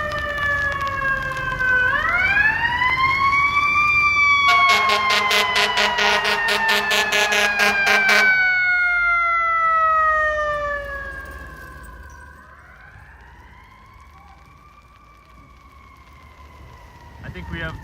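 Fire engine sirens wail through midtown Manhattan in a heavy snowstorm, with loud rising and falling tones sweeping close by, a burst of rapid air-horn-like pulsing in the middle, then fading as another siren begins.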